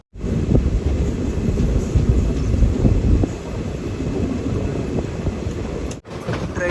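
A Cheruvathur to Mangaluru passenger train runs along the line, a loud, steady rumble with faint wheel clatter lasting throughout, briefly dipping near the end.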